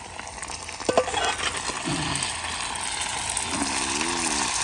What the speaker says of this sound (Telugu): ఇప్పుడు అదే ఆయిల్లోకి మనం చికెన్ వేసేసుకోవాలి